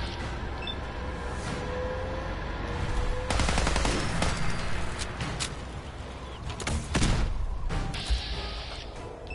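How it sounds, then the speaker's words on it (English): Fallout 4 machine gun turret firing in a junkyard, rapid bursts of automatic gunfire in several loud volleys separated by short gaps, with clanking mechanical sounds mixed in. "Machine gun turret."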